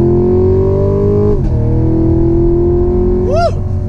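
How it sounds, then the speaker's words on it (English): A loud 6.2-litre V8 engine of a 2020 Chevrolet Camaro SS holds a steady, throaty drone, dips briefly, then climbs again, with a rising revving whine near the end. "Listen to that V8."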